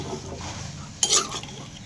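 Ridge gourd sautéed with turmeric and chili powder is stirred in a pan, with a soft background hum and a single brief scraping stir near the middle.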